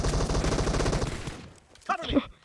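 Rapid automatic M4 rifle fire in the PUBG Mobile battle royale game, a loud dense burst of shots lasting over a second, then fading into quieter game sounds and brief voice.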